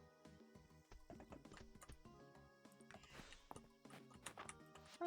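A horse in the video game Fields of Mistria clops along with steady hoofbeats and gives a brief neigh, heard fairly quietly among other busy game sounds, with no one talking.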